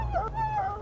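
A guard dog in the Mad Max video game gives a brief whining, howl-like vocal that rises and falls over a low engine drone, close and fairly loud.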